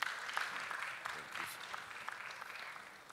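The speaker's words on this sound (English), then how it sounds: "Can we have a round of applause for him, please?" An audience at a school technology expo session gives a speaker a round of applause, a faint, sustained wash of clapping heard from a distance that fades slightly toward the end.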